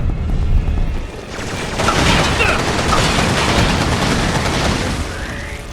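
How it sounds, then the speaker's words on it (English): A hedgehog grenade explodes in the Resistance 2 video game during a San Francisco level, a loud sustained burst of blasts and crackling debris that fills the clip with dense gunfire-like noise throughout. "throw a hedgehog grenade"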